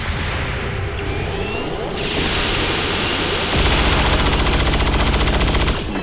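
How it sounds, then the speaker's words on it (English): Video game gunfire from XCOM Long War: rapid, loud machine-gun bursts with sharp impacts and a whooshing sweep, building into a dense, continuous heavy barrage in the final seconds. "Dodges one heavy fire but runs right into the other."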